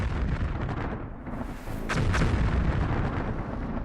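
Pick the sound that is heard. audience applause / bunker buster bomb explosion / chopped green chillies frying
bunker buster bomb explosion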